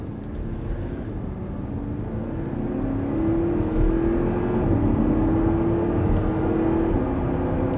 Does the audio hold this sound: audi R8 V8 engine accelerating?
yes